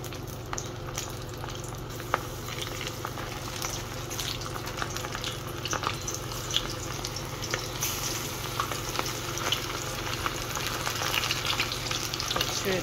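Shrimp frying in hot oil in a pan, a steady close bubbling sizzle with scattered sharp crackles and pops that grow a little busier toward the end.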